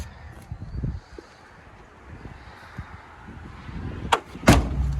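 A sharp, heavy slam of a stiff car door on a 1985 Toyota Corolla SR5 coupe near the end, preceded by a few softer clunks and handling noises against light wind and outdoor ambience.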